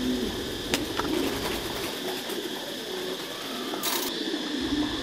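Tam Thai meat pigeons coo steadily in a breeding coop, soft repeated calls continuing throughout with a few sharp clicks and a brief hiss near the end.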